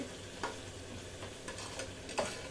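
Ginger and garlic fry in a pan with a faint, steady hiss and sizzle, broken by a few soft scrapes of stirring.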